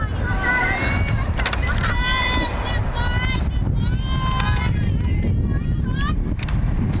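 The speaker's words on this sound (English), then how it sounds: "Wind picked up since we arrived for our production meeting" Steady wind gusting across an outdoor high school softball field, a constant broadband rush filling the whole stretch, with a commentator's voice and crowd talk running over it.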